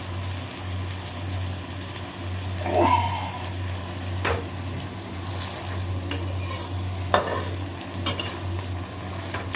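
Pav bhaji fries in a hot pan with a steady sizzle and stirring scrapes, close and continuous, with several sharp utensil knocks against the pan.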